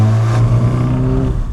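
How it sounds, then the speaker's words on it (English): A 2022 BMW engine fitted with an aftermarket exhaust fires up with a loud, deep rumble that holds steady and then eases off. "I think this will start the engine."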